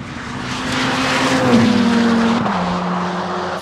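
A Ferrari F8 sweeps past at speed, its engine note rising loud as it nears, then dropping in pitch as it passes and fades into the distance, heard alone with no talking.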